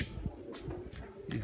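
Soft, low pigeon coos repeat in a gentle rolling rhythm, fairly close and quiet, with no talking.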